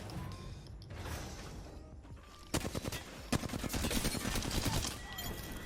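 Rapid bursts of gunfire from the Apex Legends video game, starting sparse then erupting into dense overlapping automatic fire and impacts that keep on loud and close to the end, over a busy game soundscape.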